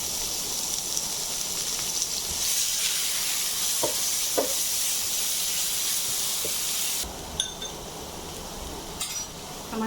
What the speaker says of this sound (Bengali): এবার আমি একটু পেঁয়াজগুলো বেরেস্তা করে নেব।